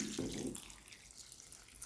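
Water pours into a container while making bio enzyme from kitchen waste, a burst of splashing flow at first that settles into a steadier trickling run, close by and alone.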